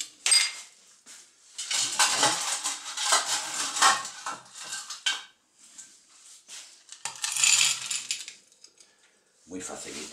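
Ice tumbling and rattling into a glass for a chocolate Russian cocktail, loose clattering bursts that come and go, with a voice talking nearby.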